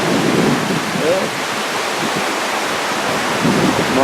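Rushing floodwater after Tropical Storm Alberto fills the space with a loud, steady roar, broadband and continuous, with a brief faint voice partway through.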